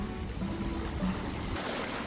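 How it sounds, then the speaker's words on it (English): Small sea waves washing and splashing steadily at Balos Beach on Crete, a close continuous watery rush with no speech. "And there are also a bit of waves."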